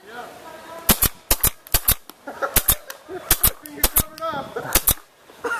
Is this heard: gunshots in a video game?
yes